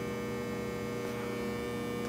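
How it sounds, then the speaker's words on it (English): A steady, continuous low hum of basement machinery drones evenly throughout, with no voices or other sounds. "The hum from the machinery down here is something else."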